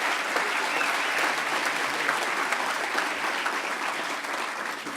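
A conference audience breaks into sustained applause, dense and steady clapping from a large crowd that fills the room evenly from start to finish without any clear voices.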